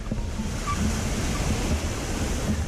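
Ocean surf washes steadily up and back along a beach on the southern coast of Western Australia, a continuous loud rushing wash with some wind buffeting the microphone, no voices.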